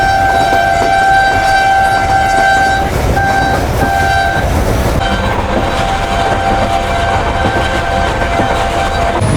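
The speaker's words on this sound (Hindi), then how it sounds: "हमारी ट्रेन भी लूप लाइन से गुजर रही है" Tezgam passenger train rolling along a loop line, a loud steady rumble and rail clatter filling the whole span, with sustained horn-like tonal notes in the first half.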